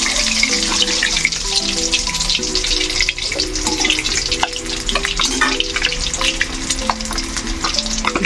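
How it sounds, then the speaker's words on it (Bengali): Eggs sizzle and pop in a hot pan as they fry, a dense continuous crackle with sharp little spatters throughout, loud and close, while background music plays underneath. "ফুট করে ফাটে ডিমগুলো।"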